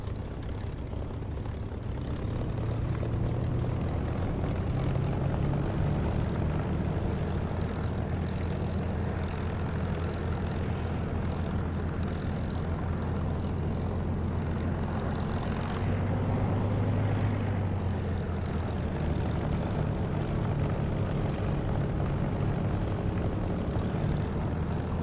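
Propeller aircraft taxiing in a combat flight simulator game (DCS or War Thunder), a continuous droning engine hum with a low propeller buzz that swells slightly, steady throughout and without speech.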